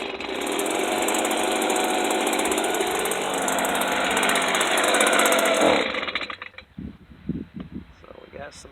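A Stihl BG55 handheld leaf blower's two-stroke engine, freshly carb-repaired, fires and runs loud with a rough buzzing drone for about six seconds, then dies away into a few sputtering pulses and low knocks.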